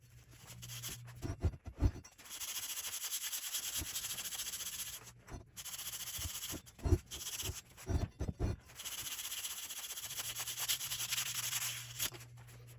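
Fine 600-grit sandpaper rubbing back and forth across a Triumph Spitfire crankshaft journal, close and steady in long passes broken by brief pauses, with no talking.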